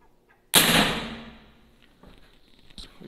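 A single sharp, loud crack from a 6.35mm PCP Tiger air rifle with a 12-inch barrel, close by, its report decaying over about a second, followed by faint handling noises.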